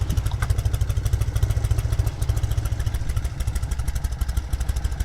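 A 1972 Norton 750 Commando motorcycle engine runs steadily at idle, a loud, close, rhythmic low thumping with mechanical clatter and no talk.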